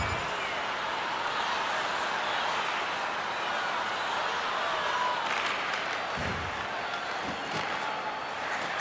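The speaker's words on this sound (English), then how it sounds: "that's got the crowd buzzing after that stop" Arena crowd noise in the hockey video game NHL 23, a sustained loud buzzing roar from spectators after a goalie save, steady throughout with a few low thumps.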